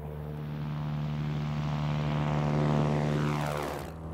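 A propeller airplane departs from runway 01 left at a non-towered airport in Mojave, its engine drone swelling loud and steady with a rising whine as it passes close, then quickly dropping away.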